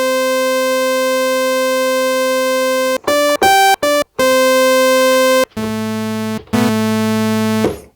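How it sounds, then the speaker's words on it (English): A steady electronic buzzy FM synth sawtooth tone, rich in harmonics, that holds and then breaks into short bursts at shifting pitches, with no voices. "it's producing a sine wave. No, sorry, a sawtooth wave."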